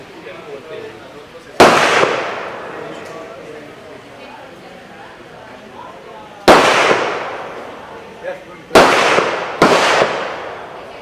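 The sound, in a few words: real guns firing at a shooting range in Vietnam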